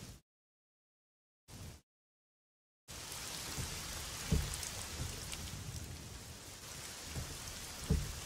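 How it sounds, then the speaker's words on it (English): Rain falls in the Assetto Corsa racing game, a steady broadband hiss after a few short bursts cut by silence, with occasional louder thumps, no talking. "It's still raining there."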